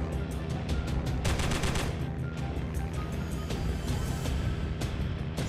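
Dense bursts of machine gun fire from the Squadron 303 air combat video game roll on continuously, loud and close, with rapid staccato rattles over a low engine drone.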